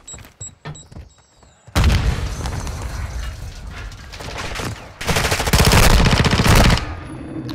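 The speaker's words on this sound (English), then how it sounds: "Set a charge on the target and detonate it." Loud battlefield din from the video game Call of Duty: Modern Warfare II as a charge is detonated on a target: a sudden heavy blast leads into sustained rapid gunfire and rumbling, with a second, even louder burst of fire near the end.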